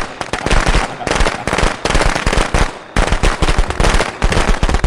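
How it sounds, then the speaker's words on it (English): Fireworks going off in the video game Friday the 13th, a loud, rapid, continuous crackle of popping bursts, like a string of firecrackers, broken by one brief pause midway. "That was two things of fireworks."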